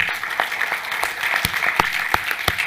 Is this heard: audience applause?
yes